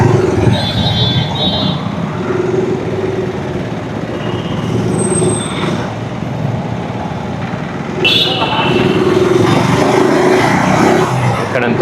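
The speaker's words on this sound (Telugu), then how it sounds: "చాలానే ట్రాఫిక్ ఉంది ఇప్పుడైతే." City road traffic surrounds a rider on a KTM Adventure 390 motorcycle, a steady loud rumble of engines and road noise, with a brief hiss of air brakes and a voice talking over it.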